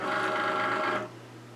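Cricut Maker cutting machine motor whirring as it feeds and loads the cutting mat, a short steady mechanical drone lasting about a second before dropping to a faint hum.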